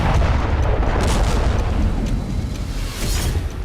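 A rocket strike on an apartment parking area in Haifa, Israel, a loud, sustained roaring boom with heavy low rumble and crackling debris that stays intense throughout before easing slightly.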